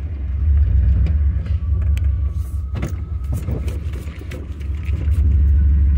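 A pickup truck drives along with a steady, loud low-end engine and road rumble throughout, plus a few faint rattles and clicks from inside the cab.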